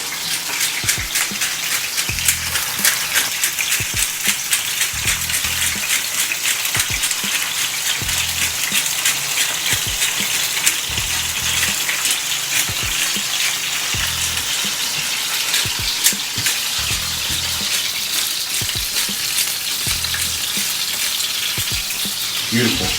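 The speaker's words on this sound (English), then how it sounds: "Turn our heat up just a little bit so we can get a nice sear and a smoke on that" Tuna steak searing in hot oil in a pan, a steady loud sizzle and crackle running throughout with dense spitting pops and no talking over it.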